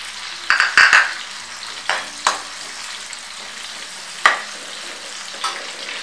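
Garlic frying in a pan over a high gas flame, a steady low sizzle broken by several sharp metallic clinks of a utensil stirring against the pan, with no talking.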